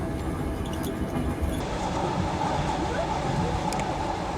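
Inside a Trans-Siberian Railway sleeper carriage, a steady rumbling rattle rolls on continuously with faint high squeals from the wheels, close and unbroken.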